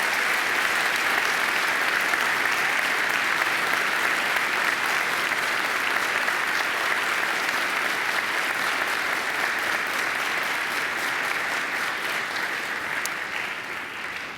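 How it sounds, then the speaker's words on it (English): Graduates at a university graduation ceremony turn and applaud their families and friends, a long, loud, even roar of massed clapping in a large hall that eases slightly near the end. "give them a mighty round of applause of thanks"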